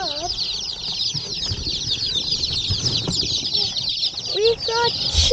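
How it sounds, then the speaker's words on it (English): Cackle Hatchery chicks packed in a big shipping box give a dense, continuous chorus of high, overlapping peeps, close and steady, with a few louder chirps near the end. "A big box of chicks."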